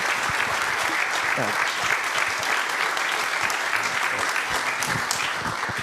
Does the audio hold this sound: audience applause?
yes